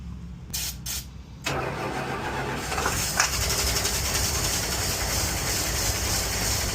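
A 1965 Dodge van that sat unused for years cranks over briefly, then catches and settles into a steady, loud, close idle with a rough mechanical rumble.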